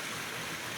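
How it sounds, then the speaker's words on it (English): A small creek with a distant waterfall in a gully of the rainy Blue Mountains, heard as a steady, soft, broadband rush of flowing water with no break across the short stretch. "will be the little creek that feeds the waterfall that we can hear"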